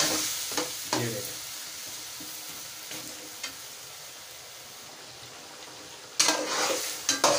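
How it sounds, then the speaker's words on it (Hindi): Chopped tomatoes sizzle steadily in a hot pan for chicken karahi while a spoon stirs and scrapes through them, with a few sharper clanks against the pan and a louder burst of frying near the end. "टमाटर जो है इनको अच्छे तरीके से हम मिक्स करेंगे कि अच्छे तरीके से जो है वो इसके अंदर डिजॉल्व हो जाए"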